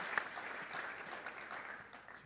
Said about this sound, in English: If you guys want to clap now, go ahead.